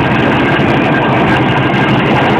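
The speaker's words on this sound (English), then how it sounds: "The steam engine coming in just now is Showman's engine" A Showman's steam engine rolls in at the 2011 Parade of Steam at Milton of Crathes, giving a loud, close, steady mechanical rumble that continues without a break.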